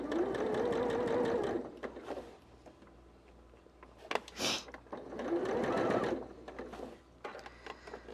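A sewing machine stitching a curvy quilt block in two steady bursts of whirring needle motion, close up, with quiet handling clicks and a short hiss between them, no speech.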